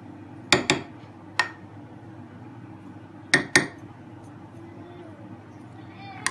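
A spoon stirring condensed milk into a dessert in a bowl, sounding as a few sharp metallic clinks in small clusters over a quiet low background hum.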